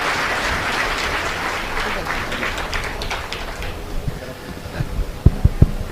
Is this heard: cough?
no